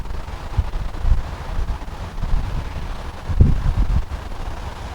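Strong gusts of wind buffet an outdoor campsite at a race track, a steady low rumble swelling into louder blasts around the start and again past the midpoint, with no speech.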